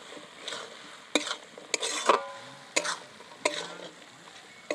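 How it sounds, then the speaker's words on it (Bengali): A spatula stirs a banana flower and prawn curry in a pan, with about half a dozen sharp scraping strokes over a quiet, low sizzle, close and intermittent. "একটু নেড়ে দেব।"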